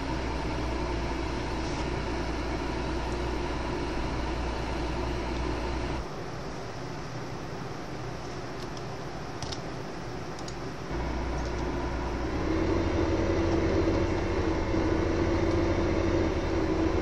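A steady rumbling train in the video game Farming Simulator 2015, rolling continuously with a faint ticking rhythm, dropping briefly in the middle before returning louder, with no talking.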